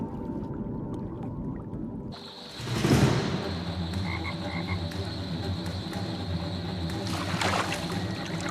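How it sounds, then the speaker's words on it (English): A frog croaking in Florida wetland waters, with brief low croaks set between sharp splashes and a steady watery background; no one speaks. "A frog tries to escape."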